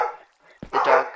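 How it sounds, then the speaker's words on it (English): Dogs bark outdoors in short sharp bursts: one bark, a brief gap, then a louder, longer bark, fairly close and with no talking. "The dogs are going off."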